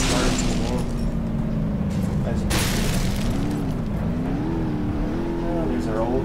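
Moonhawk car in a BeamNG demolition derby video game, its engine roaring and changing pitch as it revs, with crash booms and someone talking over it.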